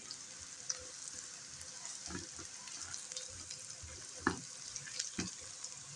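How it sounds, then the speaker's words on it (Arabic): Green onions sautéing in a pan for Egyptian shawarma, a quiet, steady sizzle with a few soft stirring knocks and scrapes. "بنحمره كده، بنديله تشويحة على ما يدبل بس شوية"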